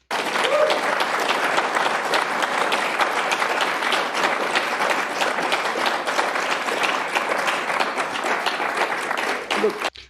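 Sustained applause from a large crowd at a political speech, dense steady clapping filling the whole stretch loudly before stopping abruptly at the end.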